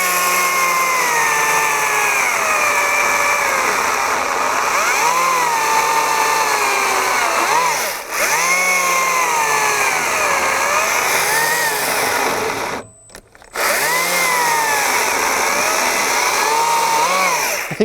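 A Wild Badger 40-volt cordless chainsaw cutting wood, its electric motor whining loud and close, dipping in pitch under load and rising again, with a brief cut-out partway through.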